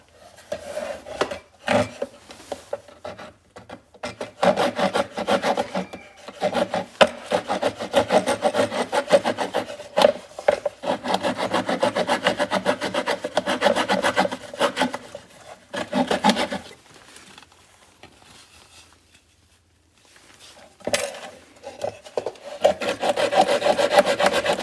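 A Bosch T-shank blade fitted to a Leatherman Surge saws back and forth through wood in long, scratchy rasping strokes, close by, with brief pauses between bursts.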